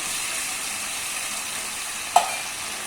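Chicken karahi with yogurt, black pepper and green chillies frying in a pan, a steady soft sizzle throughout with one brief clink near the end.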